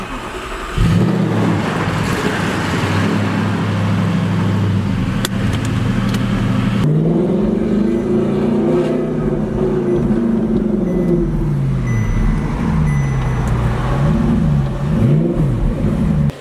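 An Audi R8 rolls into a storage unit, its engine note rising and falling with steady low harmonics, loud and close throughout with a slight change in tone partway through as it pulls inside.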